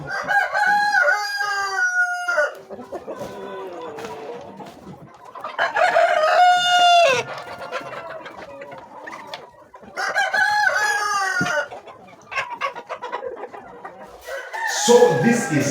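Roosters crow loudly and hens cluck on a local chicken farm, several long crows rising in turn over a steady background of clucking, close by, with no talking.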